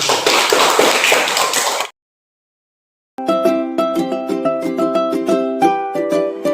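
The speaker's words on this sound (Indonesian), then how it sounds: "Ya, berikan tepuk tangan untuk kita." Primary-school pupils in a classroom give a brief burst of clapping that cuts off abruptly into silence, followed by a run of sharp, rhythmic, ringing taps.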